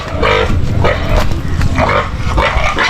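Pregnant sows on a backyard farm grunt close by, loud throaty snorts coming in quick, overlapping bursts for the whole few seconds.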